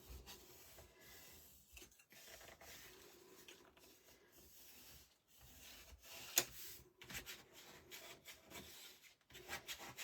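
A bone folder burnishing paper for a handmade album makes soft, continuous scraping and rubbing strokes, quiet and close, with a few sharper scuffs along the way.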